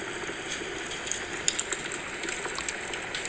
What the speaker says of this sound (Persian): این هم صدا آتیششه